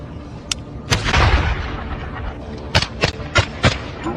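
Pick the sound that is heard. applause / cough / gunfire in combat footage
gunfire in combat footage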